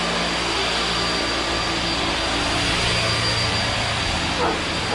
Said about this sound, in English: chop saw, the cable router, air compressor, vacuum, the other router, cable saw.